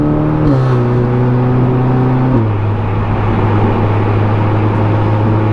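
A loud engine of a tuned 400 bhp Audi S3 idles with a low steady drone, its pitch stepping down twice as the revs settle, continuous and close throughout.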